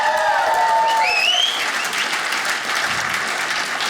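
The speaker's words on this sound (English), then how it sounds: "Let's get a round of applause for America." A stand-up comedy audience applauds loudly, clapping and cheering at full strength before settling into steady, slightly softer applause; a few whistles rise early on.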